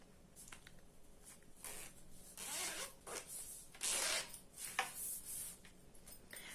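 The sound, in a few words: zipper pulled along a fabric pencil case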